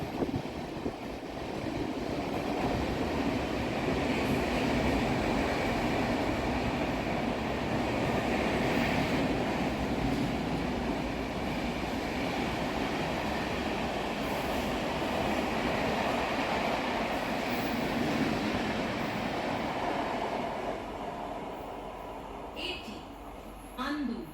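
A Howrah to Digha local passenger train rumbles steadily along the tracks, a continuous loud roar with faint rattling that eases toward the end.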